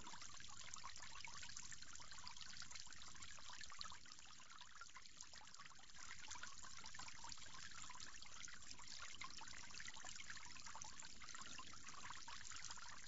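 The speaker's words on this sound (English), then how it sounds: "From there, you'll go on to rinse your mouth 3 times." Steady running water trickles continuously throughout while the mouth is rinsed during ablution, with no voices.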